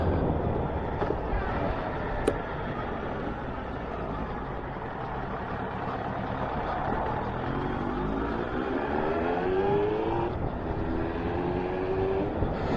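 A Suzuki 1200 Bandit motorcycle engine with a running fault idles on its prime fuel setting, a steady, close, rough mechanical drone that continues throughout, with a faint rising whine near the end.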